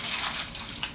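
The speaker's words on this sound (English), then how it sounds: "go ahead and add water." Water is poured from a tap into a pan of dry pasta, a continuous splashing gush that stays fairly loud and steady for the whole second, with no talking.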